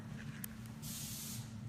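A quick burst of spray hisses from a can onto a yogurt cup used as a concrete candle mold, a brief close airy rush lasting under a second after a couple of faint clicks.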